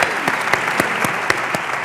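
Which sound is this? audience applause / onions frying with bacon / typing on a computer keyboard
audience applause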